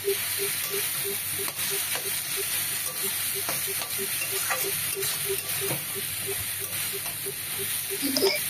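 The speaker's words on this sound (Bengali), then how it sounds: "এবার বেশ একটু ভাজা ভাজা করে নেব।" Fish bladder fried with water lily stems in a pan gives a steady, close hiss of sizzling oil, with faint regular ticks and the odd sputter.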